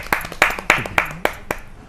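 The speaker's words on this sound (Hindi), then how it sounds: "एक बार तालियों से उनका स्वागत कीजिए प्रमोद जी।" Sparse, distinct hand claps at a Hindi poetry gathering welcoming a guest, about seven sharp claps in a loose rhythm, close by, with a voice faintly audible between them.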